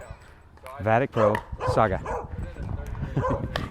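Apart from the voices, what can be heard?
dog barking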